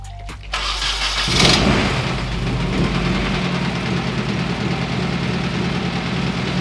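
A Nissan 240SX engine cranks and catches, then settles into a steady, rough, tractor-like chugging idle close by.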